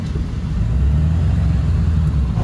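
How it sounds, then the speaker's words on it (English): A truck making a horrible noise while driving gives a loud, continuous low rumble with a rough, grinding texture that holds steady throughout. "My truck just started making a horrible noise on the way home."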